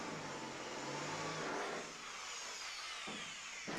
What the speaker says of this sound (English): I'm just moving around swiftly now with the 8mm drill bit.